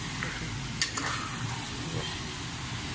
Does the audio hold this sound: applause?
no